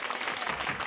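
A studio audience at a television variety show gives a very short burst of applause, a dense, even patter lasting under a second.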